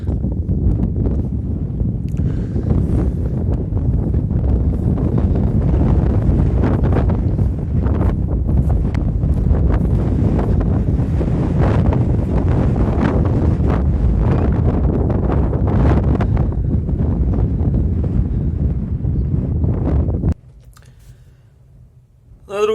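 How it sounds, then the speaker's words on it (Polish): Strong wind buffets the microphone over a grain field, a loud continuous roar with rumbling gusts and faint clicks lasting about twenty seconds before dropping out abruptly near the end. "Dzisiaj tak pogoda, wiatrzysko to nic nie słychać bardzo"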